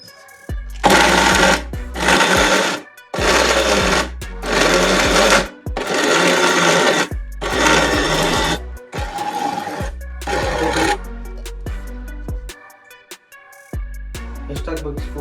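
A kitchen mixer grinder grinding chicken keema to a thick paste, run in repeated loud pulses of one to two seconds separated by short pauses, with occasional talking between the bursts.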